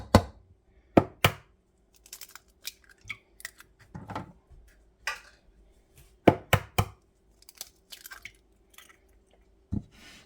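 Two eggs cracked into a bowl for a breakfast casserole egg mixture, giving sharp close taps and cracks scattered among smaller clicks and soft squishes in a quiet kitchen, with no talking.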